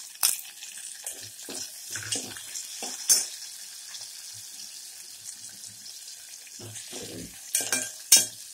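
Onion frying in a pan for a tempering step in a Maharashtrian chavali usal, a soft continuous sizzle with scattered stirring scrapes and clinks, moderately close and without talk.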